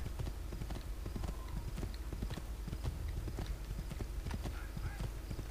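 Rapid hoofbeats of a galloping horse in the video game Assassin's Creed 2, a dense continuous clip-clop rhythm at steady volume over a constant ambient background.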